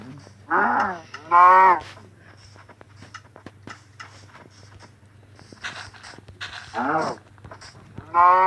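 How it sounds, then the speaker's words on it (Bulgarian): Cow mooing in a Minecraft-style survival game: several distinct moos, two close together near the start and more later, fairly loud over a low steady hum with faint clicks between them. "Их, тая крава."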